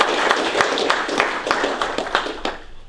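Audience applause at a conference talk, dense clapping from a room of listeners that fades out toward the end.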